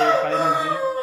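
A kattu seval, a high-flying fighting rooster at a farm in Oddanchatram, gives one loud, close, drawn-out crow-like call that lasts about a second.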